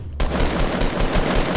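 Video game gunfire, a rapid automatic burst that starts abruptly and keeps hammering in a steady fast rhythm, loud and close, with no talk over it.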